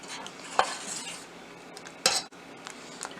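A spoon stirs fruit custard simmering in a pot, with soft scraping strokes and a couple of sharper clinks against the pan, close and fairly quiet.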